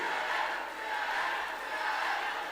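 A partisan crowd at an awards ceremony cheers and yells in a steady, dense roar of voices that lasts throughout, with no single voice standing out.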